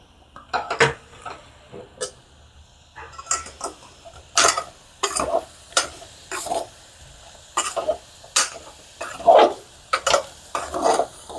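Bitter gourd chutney is stirred in a pan, heard as a series of irregular close clinks, scrapes and knocks of a utensil against metal, with quiet gaps between.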